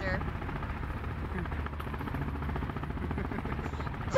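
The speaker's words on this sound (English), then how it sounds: "All I hear is the helicopter." Steady rotor-like drone of a helicopter in the video game Sons of the Forest runs throughout, loud and continuous, with faint voices underneath.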